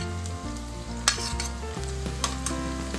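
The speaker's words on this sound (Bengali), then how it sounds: "আবার একটু নাড়াচাড়া করে নিচ্ছি।" Chicken gravy noodles with chopped green chilli are stirred in a pan over a low flame, a close steady sizzle with a few sharp spatula clicks and scrapes and a sustained tonal hum underneath, no talking.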